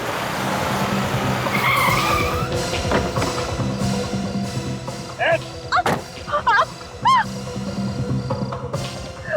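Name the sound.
car skidding to a stop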